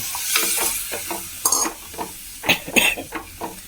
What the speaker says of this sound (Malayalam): നമുക്ക് നാളികേരപ്പാൽ ചേർക്കാം